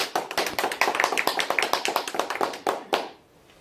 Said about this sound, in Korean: 박수 해야지.